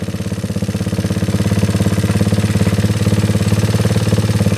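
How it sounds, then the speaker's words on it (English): A Yamaha 225DX outboard motor under restoration idles in neutral, a loud, close, steady low rumble with a fast regular pulsing throb. "Put her in neutral, see how she idles."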